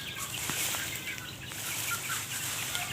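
Chickens and chicks cluck and cheep busily while being fed outdoors, a dense, continuous chorus of close bird calls with scattered sharper peeps.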